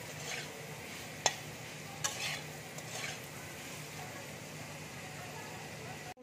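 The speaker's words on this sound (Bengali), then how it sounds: "এবার আমি নুন দিয়ে দিচ্ছি, হলুদ দিয়ে দিচ্ছি, ভালো করে ভেজে নেব" Eggplant and potatoes frying in oil with salt and turmeric, giving a steady sizzle throughout, broken by a few sharp clinks and scrapes of a stirring utensil against the pan.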